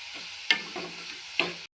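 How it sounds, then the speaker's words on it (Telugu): Chopped onions, green chilies and tomatoes sizzle steadily in a pan for pasta sauce, with two distinct spoon-against-pan stirring knocks over the close frying hiss before it cuts off. "ఎర్రగడ్డ, పచ్చిమిర్చి, టమాటాలు వేసుకొని బాగా మగ్గించుకోవాలి."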